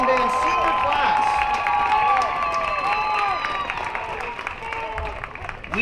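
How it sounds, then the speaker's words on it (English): A high school marching band's senior night crowd applauds and cheers, with clapping spread across the audience and a melodic line sounding over it, fading slightly toward the end. "please give one more round of applause to this year's NHS Marching Band Senior Class"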